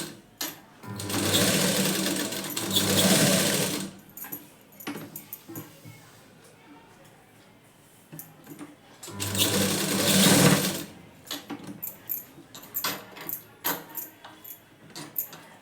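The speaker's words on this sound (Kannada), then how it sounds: "ಇವಾಗ ಈ ನೆಕ್ ಹತ್ರನೂ ಕೂಡ ನಂತರ ಸ್ಟಿಚಿಂಗನ್ನು ಹಾಕ್ಕೊಳ್ತೀನಿ." A sewing machine stitching near the neckline of a blouse runs in two loud, sustained bursts separated by a quieter stretch of handling clicks and light rattles, with a brief voice underneath.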